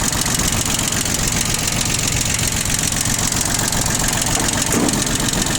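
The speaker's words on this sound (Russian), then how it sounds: "По оборотам, думаю, отлично видно, что трактор отлично набирает обороты, также хорошо работает." Mitsubishi MT1601 compact tractor diesel engine running loud and close at steady high revs, a continuous dense mechanical clatter and roar throughout with no voices.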